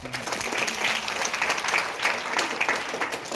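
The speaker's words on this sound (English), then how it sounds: "Let us all welcome him with a round of applause." An audience applauds to welcome a speaker at a college Women Empowerment Cell event. The clapping is dense and continuous and comes in gentle swells.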